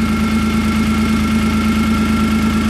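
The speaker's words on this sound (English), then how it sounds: "with that motor running, how smooth it runs" A lifted 2018 Kawasaki Mule Pro FXR utility vehicle idles nearby with a steady, even engine hum and a low pulsing throb, loud and constant with no speech.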